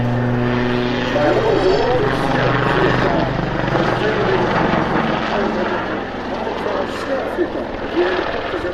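Royal Navy Super Lynx helicopter flying aerobatics at an airshow on Texel, a loud, sustained rotor and engine drone that swells and eases as it manoeuvres, with someone commenting in Dutch over it.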